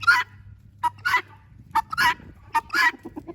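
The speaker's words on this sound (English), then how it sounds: "a guinea will squawk or whatever that thing they do, just back to back to back" Backyard guinea fowl give loud, harsh squawks one after another in quick bursts. Each call is short and rasping, with brief gaps between them, and some come in rapid doubled pairs.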